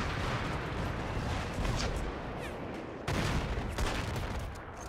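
Rifle fire in a World War One battle in the video game Between Empires, a sustained, fairly faint crackle of overlapping shots from many guns, with a brief lull before the volley resumes.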